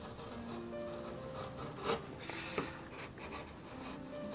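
Hand carving of wood against the grain with a knife or chisel, giving quiet scraping and rubbing strokes with a couple of sharper cuts near the middle, close and low in level, with no talking.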